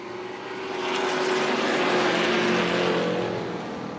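Stock race cars launching at the race start at Tucson Speedway, a broad engine roar that swells over a couple of seconds and then eases, the pack passing fairly close.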